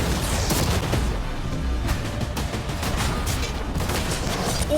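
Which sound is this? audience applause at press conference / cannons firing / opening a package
cannons firing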